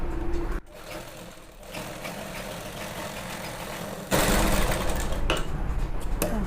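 Sewing machine stitching two trouser pieces together, a close, steady mechanical whirr that dips briefly, resumes, then runs faster and louder near the end.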